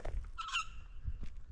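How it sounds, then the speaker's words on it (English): Birds around a bush campsite on an off-grid block in Australia give one clear, close, honking call, with faint low rumbling before and after it. "birds are making a bit of a racket, which is good."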